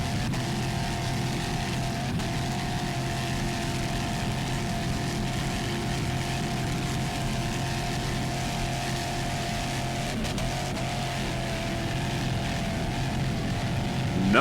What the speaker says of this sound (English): Nice throttling there by Ray Delaney.